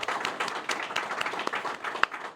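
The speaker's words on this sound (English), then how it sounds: "please join me in a resounding round of applause in recognition and appreciation" A round of applause from an audience at a cancer society recognition event, many hands clapping in a brisk uneven patter with a few sharper close claps standing out, moderately loud and continuous.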